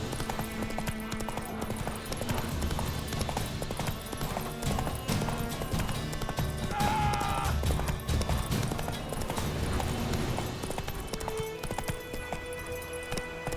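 Horse galloping in the video game The Witcher 3, with steady, rapid hoofbeats that clop on continuously and loudly throughout, set against dense in-game ambience and music.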